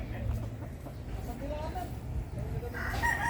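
Chickens, including a mother hen, cluck and a rooster crows intermittently in the background, moderately near, over a low steady hum with faint voices mixed in, in shade under moringa trees.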